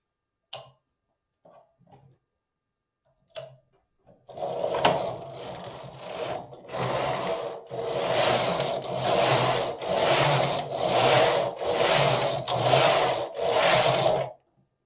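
A Silver Reed SK knitting machine carriage runs back and forth knitting rows of waste yarn, each pass a close, even whirring rasp, repeating about ten times in a steady rhythm after a few soft clicks.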